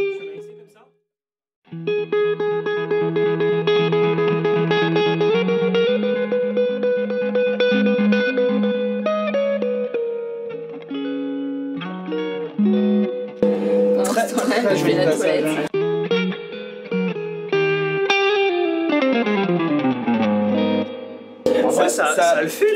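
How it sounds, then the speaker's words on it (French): An electric guitar plays a sustained riff drenched in a big, long reverb with distortion and chorus, notes ringing and sliding loudly, with a few pitch bends and swells. "On a un petit passage avec une grosse et longue réverb."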